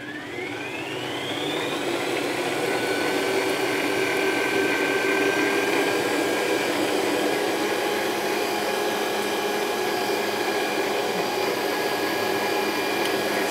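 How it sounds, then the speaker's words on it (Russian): A stand mixer whips egg whites into a very fluffy, snow-like mass for a protein custard cream used to pipe flowers. It gives a steady, loud, continuous high whir with a rising pitch at the start, heard alone with no talk. "Сейчас мы взбиваем белки до очень пышной массы, до максимально пышной массы."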